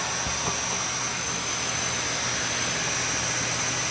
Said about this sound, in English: I also use a vacuum cleaner to clean this uh, connection, uh, dryer vent connection